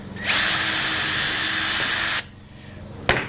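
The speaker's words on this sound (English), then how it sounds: "So you just drill a hole about 3/4 of an inch in" A power drill bores steadily into wood, about three-quarters of an inch deep, for about two seconds, then stops; a short sharp knock follows after a brief pause.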